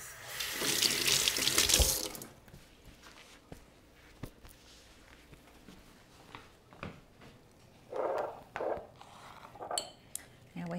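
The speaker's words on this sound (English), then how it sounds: "let me rinse my hands" A kitchen faucet gushes loudly for about two seconds as hands are rinsed at the sink. Quieter clinks of dishes and utensils, soft knocks and short bursts of water follow, all close by.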